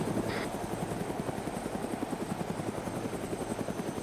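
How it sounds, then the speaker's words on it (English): A helicopter in a video game flies overhead, its rotor producing a steady, fast chopping beat that stays prominent and continuous throughout. "You see the helicopters over you."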